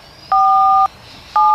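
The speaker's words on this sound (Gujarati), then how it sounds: "હાલ ફોન કર જેઠા નંબર લગાડ લગાડ" Telephone keypad tones dialing a number in a comedy sketch: two long steady dual-tone beeps, each about half a second, separated by a short gap, loud and close against a faint background hiss, with no talking.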